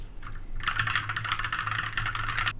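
Rapid, clicky keystrokes on a low-noise mechanical keyboard with red switches, a steady burst of typing for about two seconds, close and crisp against a low background hum.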